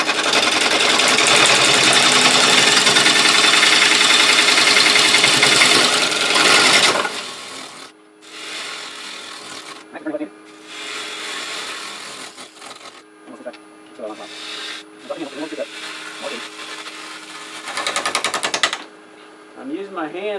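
A wood lathe turning a live-edge winged cherry bowl, with steady loud scraping of the cutting tool on the spinning wood at first, then intermittent shorter cuts separated by quiet pauses as someone talks.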